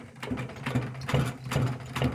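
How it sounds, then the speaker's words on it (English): A sewing machine stitches a leather multitool holster, its needle mechanism thumping in a steady rapid rhythm at close range, with no talk over it. "I've seen pretty much everything that the sewing machine can throw at me"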